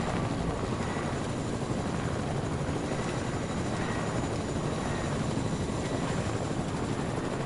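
A Fortnite helicopter's rotor and engine drone steadily and up close, a dense unbroken whirring chop lasting the whole stretch, with no voices over it.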